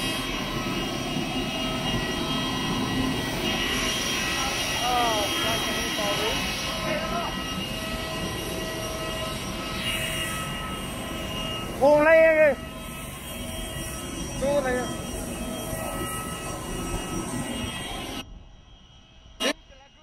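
Airplane cabin during flight, a steady broad engine roar with constant hum filling the cabin throughout, people talking and exclaiming over it, before it cuts off abruptly near the end.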